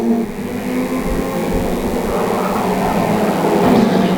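Stock rod racing cars roar around the Cowdenbeath oval in a close pack, one car defending with a line of cars behind; a loud, continuous engine drone with rising revs, close and steady throughout, with no talk.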